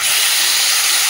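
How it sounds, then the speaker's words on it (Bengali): Marinated chicken dropped into hot oil over fried onions gives a loud, close, continuous sizzling hiss that fills the whole moment without pause. "এর মধ্যে এবারে চিকেন মাখানো চিকেনটা দিয়ে দেবো।"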